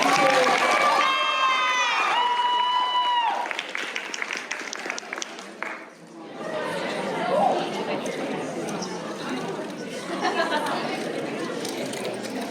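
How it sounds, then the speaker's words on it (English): Crowd applause and cheering break out at a lip sync contest at an anime convention, a sustained wash of clapping with shouts and chatter, loud at first, dipping briefly, then continuing under people talking. "If we can have another round of applause, please."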